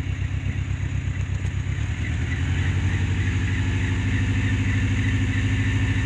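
A Dodge Ram pickup engine runs heavy with a pipe leak at the catalytic converter, giving a loud, steady, low throbbing rumble that holds constant throughout with no voices.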